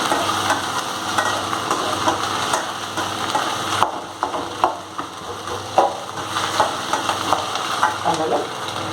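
Chopped potatoes frying and being stirred in a pan, a steady loud sizzle with repeated scraping stir strokes throughout, no talk.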